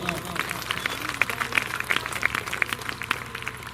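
Congregation clapping at a church anniversary river gathering, a rhythmic run of many hands clapping together in a steady beat, fairly close and lively, with voices mixed in underneath.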